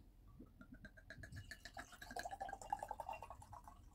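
A chilled drink is poured into a glass, with a faint, steady trickle and rising gurgle of liquid filling over about four seconds. The sound is quiet and close, with no talking.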